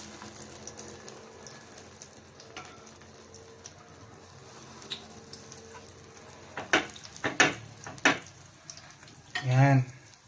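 Egg-dipped eggplant slices for tortang talong going into a frying pan, a quiet sizzle growing into sharper crackles and a few utensil clatters near the end.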